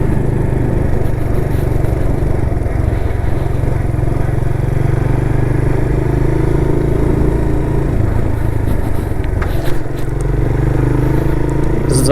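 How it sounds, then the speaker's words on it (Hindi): A Suzuki GS motorcycle being ridden on city roads, its engine droning steadily and loudly throughout with constant wind and road noise, a few faint clatters and scrapes over the top. "ज़बरदस्त है राइड, बहुत आरामदेह बाइक है ये।"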